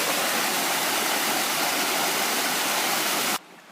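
A small water cascade at a brook in Pulpit Rock Conservation Area in Bedford, New Hampshire, gives a steady, loud, close rushing wash that cuts off abruptly at the end.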